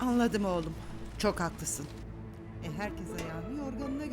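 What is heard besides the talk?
No everyday noises stand out.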